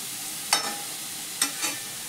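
Radish greens cooking in a pan, with a low steady sizzle under two distinct stirring scrapes of a spatula, each followed by a softer shuffle, heard up close.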